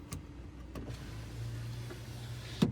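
Power sliding rear window on a 2019 Ram 1500 Laramie pickup cab runs with a steady low motor hum, framed by a few clicks and ending in a sharper thunk, close and quiet.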